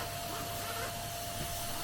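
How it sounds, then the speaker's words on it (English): A hoover vacuum cleaner sucks a plastic bag tied to a rope through it during a van conversion, giving a steady, even whooshing hiss with a faint whine and no talking. "turn on the hoover and you put the bag in the hoover"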